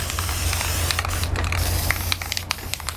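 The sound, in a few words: spray paint being sprayed onto a photo canvas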